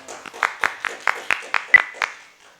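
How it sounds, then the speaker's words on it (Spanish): A handful of distinct claps from one or a few people at a seminar, sparse and evenly spaced, close and dry against a quiet room. "Ahora nos toca aplaudir a los que estamos aquí"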